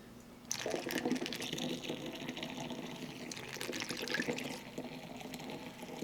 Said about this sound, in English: Pouring juice into a bottle.